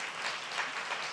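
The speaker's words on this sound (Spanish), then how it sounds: "le recibimos con un aplauso de bienvenida, de cariño" Audience in a church service applauds to welcome a visiting preacher, a steady wash of many hands clapping at even volume throughout.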